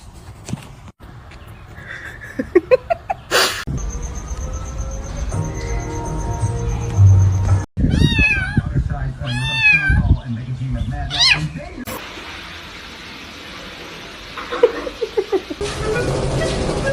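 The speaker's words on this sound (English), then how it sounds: "Sorry, my cat." A pet cat meows several times indoors, its cries rising and falling over scattered household noises, with people talking nearby.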